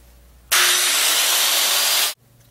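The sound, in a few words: saw cutting a ridge vent hole in roof deck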